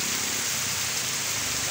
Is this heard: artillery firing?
no